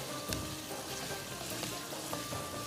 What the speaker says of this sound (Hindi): इसमें डलेगा ज़ीरा, सफ़ेद ज़ीरा 1 चम्मच, और इसको आपने सौटे करना है